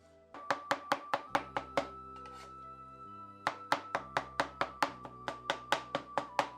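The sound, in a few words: chopping lean and fatty pork into mince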